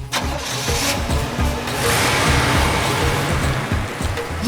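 A car engine cranks and fires up in a village setting, a steady, fairly loud mechanical rumble running through the whole short stretch with no voices over it.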